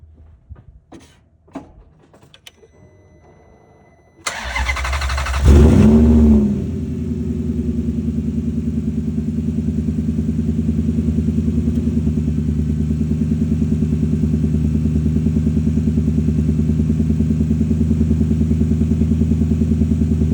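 A Maserati GranTurismo fitted with a turbo fires up with a sharp bark, then settles into a steady, loud, close rumbling idle that holds for the rest of the stretch.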